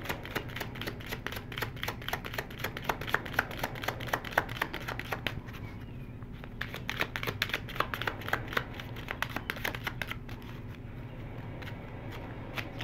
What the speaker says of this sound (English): I'm using the Kipper cards.